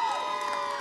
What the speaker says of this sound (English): give it a cheer